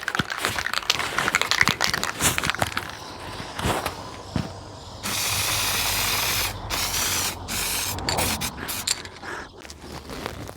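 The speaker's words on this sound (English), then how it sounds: "Now we're just going to use some gloss aluminium." Gloss aluminium paint sprayed over primer undercoat, heard as several hissing bursts of varying length in the second half, preceded by clattering handling and creaking noises, close and alone without talk.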